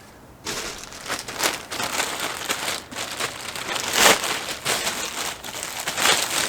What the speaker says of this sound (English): I'm going to stuff it into my plastic bag